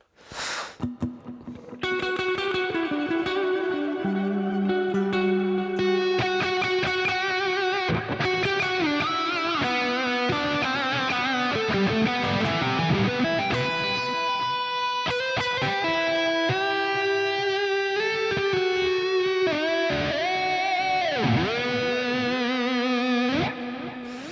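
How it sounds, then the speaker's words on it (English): Electric guitar run through native Ableton Live echo and reverb effects, playing sustained, heavily processed notes and bends with long echoing tails, loud and continuous throughout with no talking. "They're actually just native Ableton Live. So we've got the echo and the reverb."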